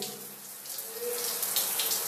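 Shower water running from a tap, a steady rushing hiss that swells slightly louder toward the end, close by and with no talk over it.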